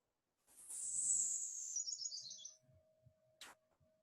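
Recorded bird song played back at double speed, a rapid high-pitched descending trill of chirps, loud and close, fading out after about two seconds, followed by a faint steady tone and a short click.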